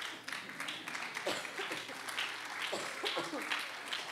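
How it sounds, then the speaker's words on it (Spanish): A church congregation applauds in a muffled, moderate burst of clapping, with some voices mixed in beneath. "Tres aplausos, ya tú sabes."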